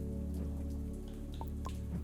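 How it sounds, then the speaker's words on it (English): Steady rain falls throughout, a continuous soft patter with a few brighter drips standing out, heard alone with no talking over it. "It's raining."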